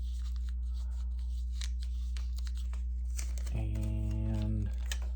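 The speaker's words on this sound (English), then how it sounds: "just putting a little piece of tape over it." A small piece of tape is pulled and torn on a workbench while an LS engine is prepped for painting: a brief ripping sound near the end over a steady low mains hum.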